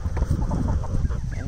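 Big white farm birds clucking close by on a sunny weekend morning, a busy run of short throaty clucks and murmurs overlapping one another without a pause, with no voices.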